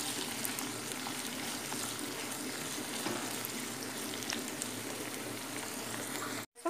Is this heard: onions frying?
yes